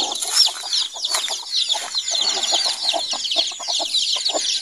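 A flock of farm chickens with many chicks cluck and peep close by, a busy, continuous chatter of short high calls and softer clucks with no talking.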